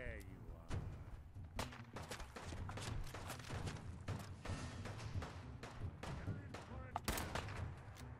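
Rapid gunfire from Fallout 4, a modded game, fired in repeated sharp bursts and single shots across the whole stretch, with a low rumbling game backdrop and someone speaking over it.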